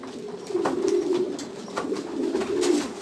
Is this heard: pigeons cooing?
yes